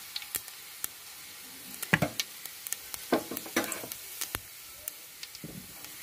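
Fennel seeds frying in hot palm oil for a Kerala-style roast, crackling and sizzling in scattered sharp pops with occasional stirring, close and moderately quiet, with no talking.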